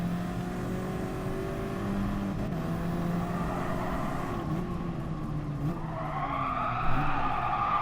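Car tires skidding under hard braking in the Gran Turismo Sport racing game, a sustained engine drone with sliding tire noise and shifting pitch, moderately loud with no talk.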